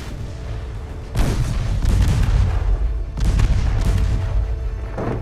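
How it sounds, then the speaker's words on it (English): Torpedo launches and heavy gunfire in the naval warship game Ultimate Admiral: Dreadnoughts, loud booming blasts in two main bursts over a constant rumbling battle backdrop. "And you'll just launch a torpedo."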